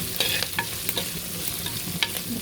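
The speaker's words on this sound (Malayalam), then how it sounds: "ഇത് നന്നായിട്ട് ഇളക്കി കൊടുക്കും" Curry leaves and chopped ginger frying in a pan, a steady close sizzle with repeated stirring scrapes of a spoon.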